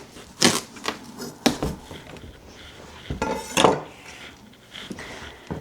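Peppers are cut with a knife, producing close, sharp chopping knocks against a board in irregular bursts with quieter handling sounds between them.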